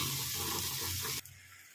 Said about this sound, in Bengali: এটাকে আমি ভালো করে একটু জল দিয়ে কষিয়ে নিয়ে ফেরত আসছি।